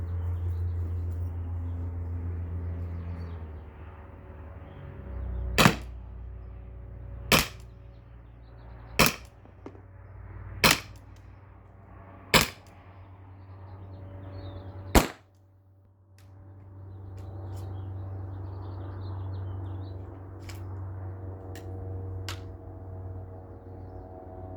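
An Umarex T4E HDR68 less-lethal launcher fires rubber rounds at a target outdoors: six sharp, evenly spaced pops a couple of seconds apart against a low steady hum, with quiet stretches before and after.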